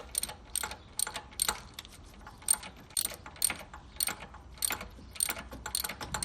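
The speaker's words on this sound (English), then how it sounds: "Now you want to loosen this 12mm bolt at the top of your power steering pump." A ratchet loosens a 12mm bolt on top of a Honda Civic power steering pump, close-up bursts of fast clicking repeating in short strokes about every half second.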